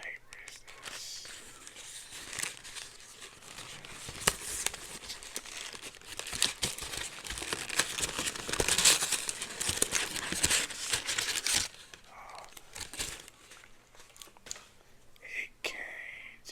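Wrapping paper crinkles and tears during an unboxing, with close, crisp rustling bursts that come and go, a soft voice murmuring between the handling.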